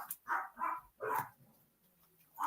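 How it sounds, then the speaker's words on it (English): An excited dog barks indoors in short, sharp bursts, with three or four close barks separated by brief quiet gaps. "My dog's going nuts."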